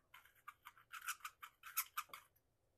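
Deburring tool scraping the mouth of a .45 Colt brass cartridge case, a series of about ten quick, faint, close scratchy strokes in an irregular rhythm with no talking.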